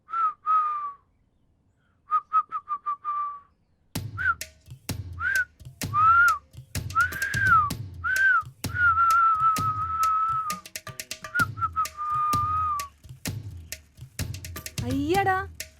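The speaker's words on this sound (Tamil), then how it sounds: "வாய் பேச முடியாம தான் விசில் அடிச்சியாடா?" Someone whistles a loud, close series of short tuneful phrases, starting with brief bursts and then running into a longer continuous melody.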